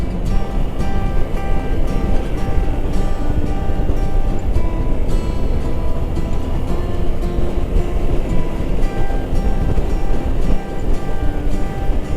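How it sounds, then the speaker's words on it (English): Strong wind blasts across a long suspension bridge, giving a loud, constant, roaring rumble that buffets the microphone throughout with no pause. "The wind over here is crazy."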